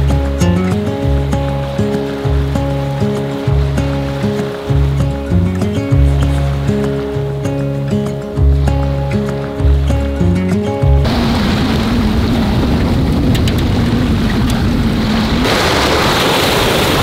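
Sea waves washing onto the shore, first under loud rhythmic music, then heard alone as a steady, broad roar of surf for the last few seconds.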